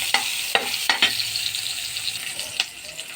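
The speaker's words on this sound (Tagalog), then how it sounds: "Sunod ko na guys tong sibuyas." Garlic and onion stir-frying in a pan, with a steady sizzle and several sharp scrapes and taps of a utensil against the pan.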